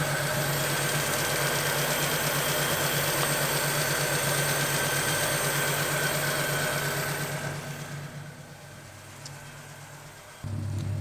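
A Honda Integra engine idles steadily nearby in a driveway after a thermostat job, a smooth continuous hum that fades somewhat toward the end, with no talking.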